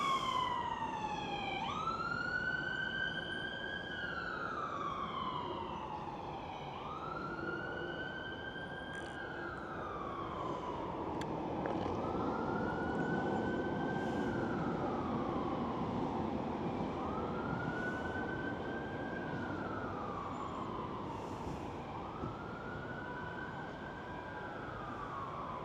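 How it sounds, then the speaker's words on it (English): A police siren wails in slow rising and falling sweeps, moderately distant, repeating steadily over a constant low background hum, near a stadium construction site in Manchester. "Comes my daily police sirens."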